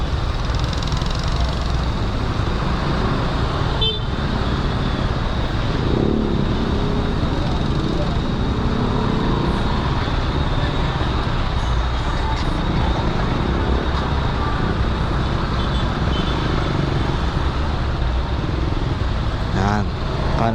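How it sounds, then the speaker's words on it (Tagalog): Steady road traffic noise rolls past a Raider 150 Fi motorcycle riding in congested city traffic, with engine rumble, wind and passing vehicles throughout, and people talking over it. "Hindi talaga mawala-wala yung traffic dito eh."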